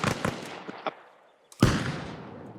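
A frag grenade detonates in the military game Arma Reforger, a sharp loud blast with a crackling echoing tail, following a few earlier gunshot-like pops during team combat.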